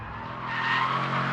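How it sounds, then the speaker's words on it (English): Tyres squeal loudly as a Mercedes C63 AMG Bi-Turbo slides in an oversteer drift, a continuous rising screech over low engine noise. "so Neil, stick an oversteer slide in now to keep the punters happy"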